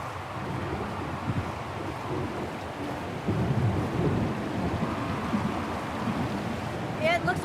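Thunderstorm in the game Syberia: The World Before, a continuous low rumble of storm and wind with rain-like hiss throughout, swelling slightly midway, with a brief chirping sound at the very end.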